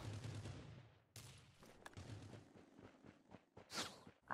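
Distant bursts of video-game gunfire from a Rules of Survival match crack and rattle faintly, coming in scattered volleys over several seconds, with a sharp, louder pop at the very end.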